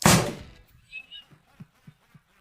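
A supercharged potato cannon fires with one loud, sharp blast that decays over about half a second, followed by a few faint, spaced thumps.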